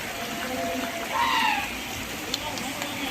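Rainwater floodwater rushes through Nambiyur with a steady, close, broadband roar that holds evenly throughout, while a voice rises briefly over the torrent partway through.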